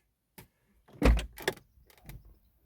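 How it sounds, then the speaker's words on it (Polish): The door of a Renault Grand Scenic 2 1.5 dCi opens with a close mechanical clunk and latch release, followed by a few softer knocks and rattles in otherwise quiet surroundings. "Otwieramy drzwi."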